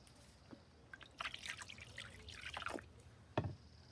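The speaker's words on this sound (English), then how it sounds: "I'm going to go fill up the pan with lukewarm water." Lukewarm water trickles and splashes into a pan for a chicken's bath, faint and close, with soft irregular drips and a brief stronger pour near the end.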